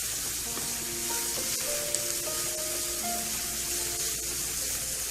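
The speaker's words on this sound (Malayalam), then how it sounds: "ഇതെല്ലാം കൂടി ഇട്ടിട്ടൊന്ന്" Capsicum and spring onion sautéing in a pan for Schezwan fried rice, a constant close sizzle with a few light scraping stirs and no talking.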